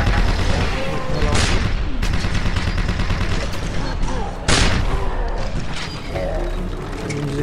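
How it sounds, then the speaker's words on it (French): Grenade explosions and gunfire from the Wolfenstein video game form a loud, constant barrage, with sharp blasts standing out a few seconds apart over steady shooting. "Il nous jette des grenades,"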